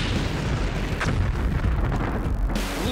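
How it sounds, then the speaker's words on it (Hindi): Artillery cannon fire from the Ukraine war booms out in dull, rumbling blasts, with a sharp report near the one-second mark, heard over constant low-pitched battlefield noise. "यूक्रेन की सेना ने तोप से रूस के कई सैन्य गाड़ियों को तबाह कर दिया।"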